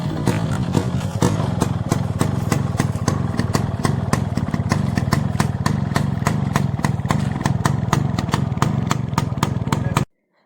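A Yamaha RX100 two-stroke motorcycle engine idles loudly and close, a rapid even putter with sharp regular pulses that runs steadily before cutting off abruptly at the end.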